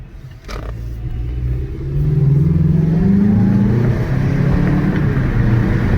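A car engine revs up into a deep, guttural, throaty rumble that holds steady and loud close by.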